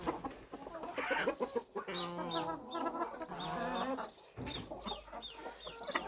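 Turkey hen clucking and chattering nearby in a run of rapid calls, with a brief pause midway before the calls resume.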